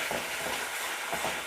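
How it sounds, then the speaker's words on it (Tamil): Ginger garlic paste sautéing with tomato and onion in a pan for a potato kurma, a steady close sizzle with soft stirring scrapes, no voices. "இப்போ இஞ்சி பூண்டையும் சேர்த்து இதோட தக்காளி வெங்காயத்தோடு இஞ்சி பூண்டையும் சேர்த்து நல்லா வதக்கிக்கிடுவோம்."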